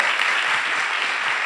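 An audience applauds a performer at an outdoor show, a loud, dense wash of clapping that holds steady throughout.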